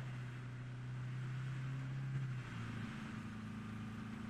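A truck engine drones steadily inside a video game, a low sustained hum that shifts pitch slightly midway, with no talk over it.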